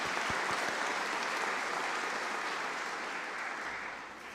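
Sustained applause from a graduation ceremony audience at Melbourne Polytechnic greets an award presenter, a dense even patter of many hands clapping that holds steady, then fades slightly at the end.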